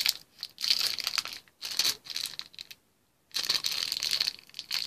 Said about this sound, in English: I'm going to open this if I can without the scissors